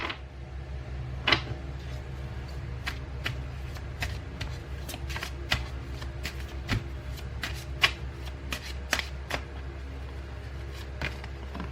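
Tarot cards shuffled by hand, a soft ongoing riffle with scattered sharper card snaps and taps over a low steady hum, close and fairly quiet, no talking.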